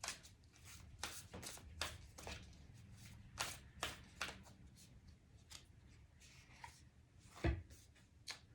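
Starseed Oracle cards are shuffled by hand in quick, crisp riffling bursts and soft slaps, close and quiet, repeating in an irregular rhythm with a brief pause and a louder tap near the end.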